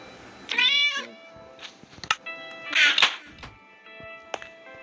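A cat meows twice, clear and close, with a few soft knocks and thumps in a quiet room between the calls.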